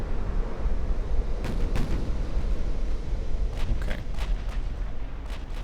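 Battleship gunfire in Ultimate Admiral: Dreadnoughts during a France versus UK battleship slugfest, heavy distant booms rolling over a constant low rumble, several blasts spaced through the stretch, with a brief spoken word.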